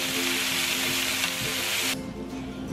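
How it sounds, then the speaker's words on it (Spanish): Meatballs searing in a pan with very little oil, a loud close sizzling hiss that drops away abruptly near the end, leaving a quieter low crackle. "vamos a sellar las albóndigas. Las vamos a poner con muy poquito aceite"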